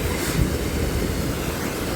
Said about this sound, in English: आवाज़ इसलिए नहीं आ रही because बहुत जोर की हवा आ रही है because there is a waterfall here